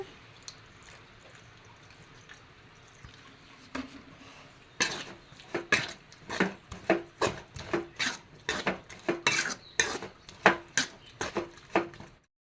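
A spoon stirs a lemon pickle mixture in a metal pot: quiet shuffling at first, then a run of sharp, irregular clinks and scrapes against the pot's sides, close and fairly crisp.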